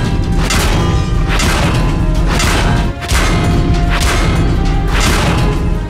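A medium-damage hit on a tank in World of Tanks, heard as a series of heavy booming metallic thumps with whooshing tails. It stays loud and sustained over constant battle noise, with a brief dip near the middle.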